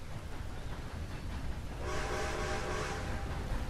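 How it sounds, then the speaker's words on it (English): A train in the video game Red Dead Online, a distant low rumble that swells after a couple of seconds into a steady roll with a faint tonal whistle drifting above it, with no voices. "As soon as you spawn in, you hear that train and everything"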